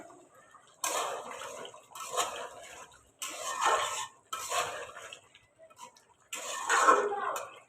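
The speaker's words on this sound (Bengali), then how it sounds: "এরকম মাঝে মধ্যে লাড়ি দিব" A spoon scrapes and clinks around a covered pot of slow-cooking meat, several separate bursts of stirring with quiet gaps between them, close and clear with no talking.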